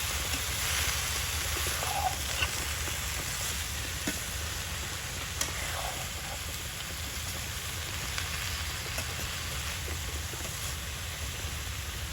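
Small icha fish fry in a pan with chinal added, giving a steady, even sizzle that continues without pause and sits close and moderately quiet.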